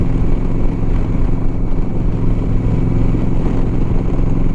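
Yamaha Royal Star XVZ1300 motorcycle converted to a single carburetor, engine running steadily with a loud, deep, continuous rumble close by, no talking.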